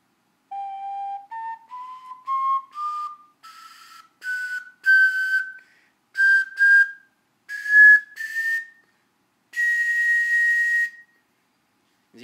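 A glazed porcelain ocarina plays a slow rising scale of clear, pure whistle-like notes, each held briefly with gaps between, followed by a few longer tones and one sustained high note, close and solo.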